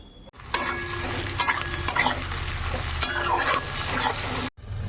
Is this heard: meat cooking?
yes